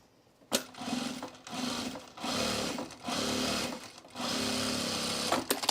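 A sewing machine stitches across a fabric strap for a baby bag in several close, rapid bursts separated by short pauses.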